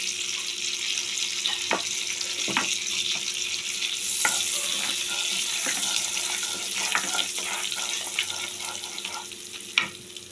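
Whole spices with dry red chillies and garam masala sizzle and fry in a pan while being stirred, a continuous crackling hiss broken by scattered scraping clicks and taps of the spoon, with no voices.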